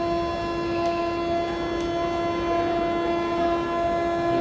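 A passenger train runs along the rails with a loud, unbroken rumble and a sustained tonal whine or horn-like hum, heard from inside, close and steady for the whole stretch.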